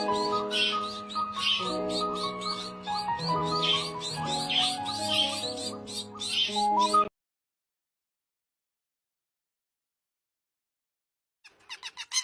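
Zebra finches give rapid, repeated high chirps over a sustained tonal backing for several seconds, then fall silent before a brief burst of chirping returns at the end.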